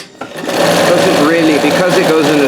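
A Janome 672 or Singer 161 domestic sewing machine densely fill-stitches fabric for a moonscape piece. It runs with a loud, steady whirring hum that starts up quickly, and a voice talks over it.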